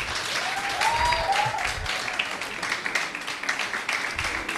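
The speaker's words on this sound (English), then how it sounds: "Another round of applause." A second burst of audience applause at an academic induction ceremony, continuous and fairly loud, with brief tonal sounds near the start and the clapping thinning slightly toward the end.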